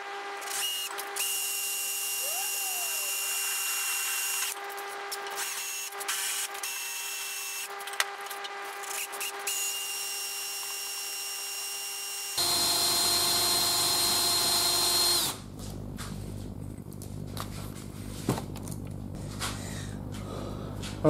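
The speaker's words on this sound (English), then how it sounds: "I've gone all the way through now with a 4mm drill bit" A power drill with a 4mm bit runs in long whining stretches with brief stops and restarts, its pitch shifting as the bit grinds through a metal motorcycle windscreen bracket, close and loud.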